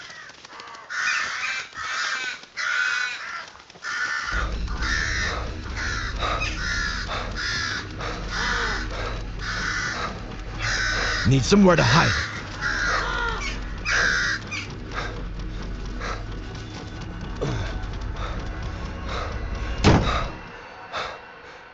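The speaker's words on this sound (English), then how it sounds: "Oh no, crows." Infected crows in the survival horror game Once Alive caw repeatedly in harsh, rapid bursts, loud and close, over a low rumbling drone, with a short spoken line and a sharp slam-like hit late on.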